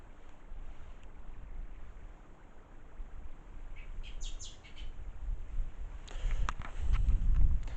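Soft outdoor ambience at a Welsh churchyard with distant birds chirping in brief bursts over a steady rustle of wind in trees, a louder gust swelling near the end.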